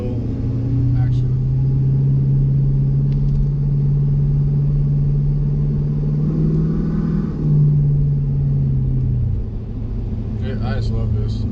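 A 2017 or newer Ford Super Duty diesel truck with a Flo-Pro exhaust driving uphill, giving a steady deep rumbling drone that rises slightly in pitch and then settles, loud and continuous.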